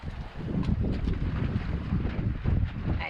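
A sailboat under way on the sea near Puerto Jiménez, with steady wind rushing over the microphone and low water wash, continuous and fairly loud, no talking.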